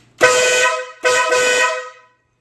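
A newly installed car horn blasts twice at close range, very loud and brassy: a long honk followed by a slightly longer second one, then silence.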